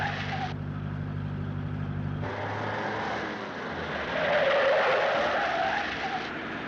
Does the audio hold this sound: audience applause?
no